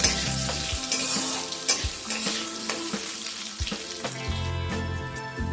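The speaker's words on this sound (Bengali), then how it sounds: "সামান্য একটু সময় নিয়ে আলুটাকে ভেজে নেব।" Potatoes fry lightly in a pan, with a steady sizzle broken by several sharp clanks and scrapes of stirring, each a short percussive hit against continuous frying noise.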